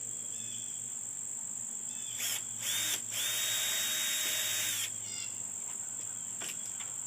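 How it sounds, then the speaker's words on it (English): A power drill with a 1/8 inch bit pre-drills a pilot hole for a storm door, whirring in short bursts with a longer sustained spin in the middle, over constant high chirping of crickets in the background. "we can pre-drill with our 1/8 inch drill bit"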